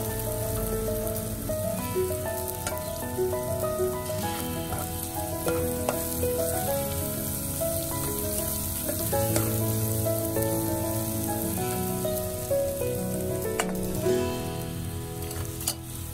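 Tilapia pieces frying with onions in melted butter in a pan, giving a steady close sizzle and crackle throughout, with faint stirring and tonal background music over it.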